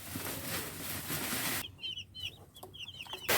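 Chickens clucking nearby in short, repeated calls, heard after a stretch of noisy wind or rain; a few sharp bursts come near the end.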